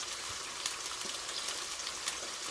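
Salmon fries in a pan for a honey garlic glazed salmon, giving a steady, faint, hissing sizzle with small crackles and no voices.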